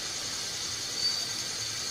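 A pot of liquid for sherbet boils hard, producing a steady, dense hiss and rumble that stays even and close for the whole stretch, with no voices.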